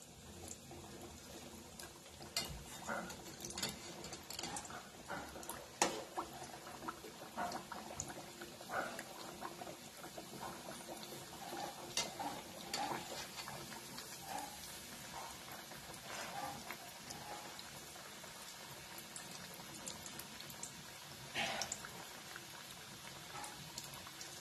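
An aloo patty sizzles in hot oil with a low, steady bubbling and small crackles throughout, quiet and continuous with scattered sharper pops.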